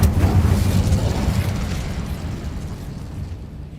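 An Incendio fire spell blasts in Hogwarts Legacy: a loud, close, booming burst at the start that rumbles on and slowly fades over a few seconds.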